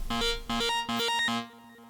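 Looped synth riser programmed in Cakewalk by Bandlab, four stacked notes pulsing in short repeated bursts, bright and upfront, then trailing off into a quieter tail.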